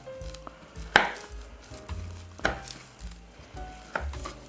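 A sharp knife cuts down through warm, sugar-dusted rugelach made from cream cheese shortcrust dough. Three distinct crisp chops land about a second and a half apart, close up, over a low kitchen hum.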